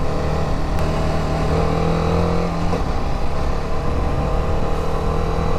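A TVS Apache RR 310 BS6 motorcycle engine while riding: a loud, steady drone with a constant hum and faint shifts in pitch, heard alone.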